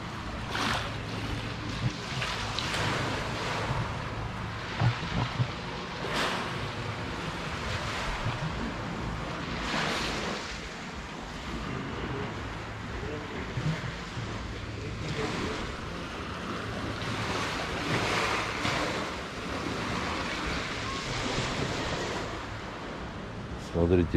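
Sea waves washing on a beach in Yalta, Crimea, a steady broadband wash with periodic surges, close by and continuous, with wind buffeting the microphone and faint talk in the background.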